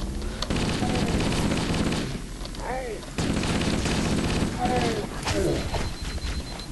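Rapid gunfire in Halo: Combat Evolved, with bursts of automatic weapon fire and sharp energy-shot chirps in quick succession, broken by a short lull, while a voice talks over the action.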